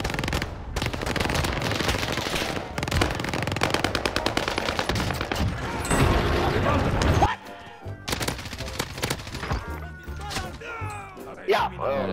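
Rapid automatic gunfire in the video game Warzone, dense bursts of loud close shots rattling for several seconds, then sparser shots and in-game sounds with a player talking excitedly.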